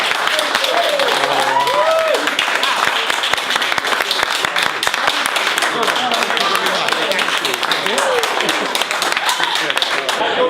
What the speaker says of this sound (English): I think we should give him a special round of applause.